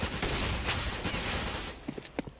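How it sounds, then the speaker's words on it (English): Sustained gunfire in Counter-Strike on the Cobblestone map, dense overlapping rifle bursts crackling continuously, then thinning to a few sharp separate shots near the end. "That is a lot of gunfire right there"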